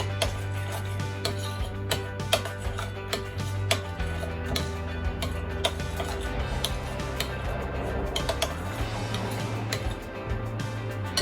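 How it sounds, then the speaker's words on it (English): Metal spoon scraping and clinking steadily in a pot of whole spices for vegetable biryani (cloves, bay leaves, black and green cardamom), a busy run of ticks and scrapes over a low steady hum. "I'm going to give it a mix."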